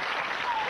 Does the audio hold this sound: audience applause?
yes